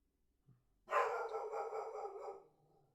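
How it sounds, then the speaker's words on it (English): A dog barks once in a single drawn-out, fairly loud burst lasting about a second and a half, with no talking around it. "Apologies if you can hear a dog."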